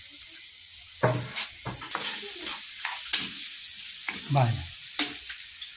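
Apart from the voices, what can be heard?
tomato and onion sautéing in oil in a pot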